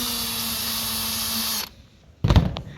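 A power drill whirs steadily while the interior of a 1987 Bigfoot truck camper is torn out, then stops abruptly, followed by a brief clunk of work noise.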